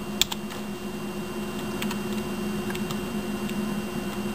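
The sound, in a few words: typing on Merc Stealth gaming keyboard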